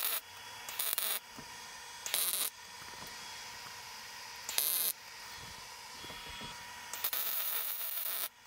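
Steel box-section tubing for a storage shelf frame is arc-welded in several separate bursts, each a harsh, buzzing crackle lasting under a second, with quieter workshop background between them.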